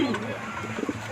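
Domestic pigeons coo up close, a low throaty, rolling call repeated over a faint background.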